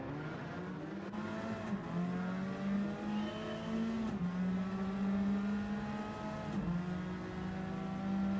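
A tuned Mini's engine in a racing video game at Kyoto drones loud and close, its pitch climbing steadily then dropping sharply at three gear shifts before rising again, with no talking over it.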